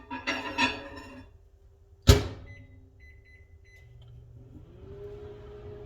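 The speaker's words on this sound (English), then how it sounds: "Then you want to throw it in the microwave for 2 minutes." A few beeps, then a sharp bang like a door shutting, followed by a low steady hum of a microwave oven running for two minutes.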